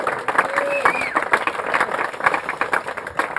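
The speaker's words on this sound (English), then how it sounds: "a round of applause for Ewan again" Wedding guests applaud the best man, Ewan, at the reception, a dense steady patter of many hands with some voices mixed in throughout.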